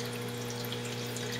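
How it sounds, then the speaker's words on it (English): Water flows steadily into a flood and drain hydroponic table, making a constant soft rush and trickle alongside a low pump hum. "the water exits out through here and fills up the table"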